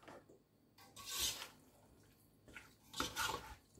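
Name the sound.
stirring mayonnaise mixture in a bowl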